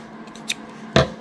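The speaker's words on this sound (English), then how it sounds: "when you just snip your yarn" Scissors snip crochet yarn while fastening off a holiday spiral coaster: a faint small snip, then one louder, close, crisp cut, with no talk.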